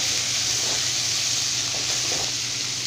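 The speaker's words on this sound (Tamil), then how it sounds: "இப்போ இது எல்லாமே சேர்த்துட்டு நல்லா வந்து வதக்கி விட்டுக்கலாம்." Chilies, tamarind and ripe tomato sauté in a pan with a steady, loud hissing sizzle that keeps going for a few seconds, with no speech.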